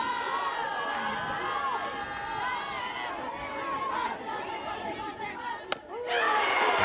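A crowd at a college softball game between LSU and Kentucky cheers and chatters steadily in the stands, with a sharp crack near the end and the roar swelling again.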